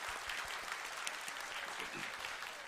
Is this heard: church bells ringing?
no